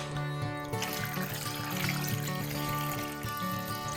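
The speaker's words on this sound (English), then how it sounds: "Add some water." Water poured into containers during a Mookaite stone experiment, a steady close trickle and splash lasting several seconds with no talking over it.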